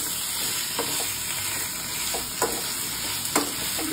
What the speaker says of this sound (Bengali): এখন আমি চিকেনটা অ্যাড করে দিচ্ছি। আর চিকেনটা যতক্ষণ না কালারটা চেঞ্জ হচ্ছে ততক্ষণ আমি নাড়াচাড়া করতে থাকবো।